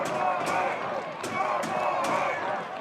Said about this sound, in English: Crowd making some major noise